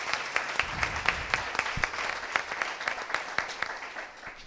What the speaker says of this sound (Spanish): Fuerte aplauso también para Ana